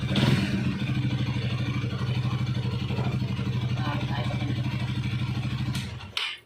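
A motorcycle engine runs close up with a steady, rattling chug, loud throughout before cutting off abruptly near the end.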